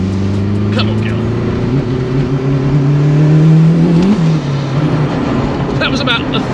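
A turbocharged K20 engine in a Toyota MR2 pulls hard under acceleration, its steady drone rising in pitch before easing off, loud and close throughout with voices talking over it.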